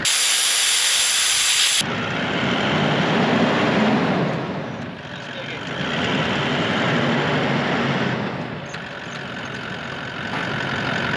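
Air hisses out of a 4x4 tire being deflated in soft sand, a loud, close, sustained rushing hiss that swells and eases a few times over a low engine rumble after a brief sharper opening burst.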